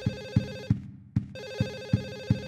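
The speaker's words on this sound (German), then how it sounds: "Hier ist doch ein Telefon. Geh ran." A telephone in Silent Hill 4 rings in steady repeated bursts, each with a sharp onset, then breaks off briefly before the rings start again. It is clear and alone over a low game hum.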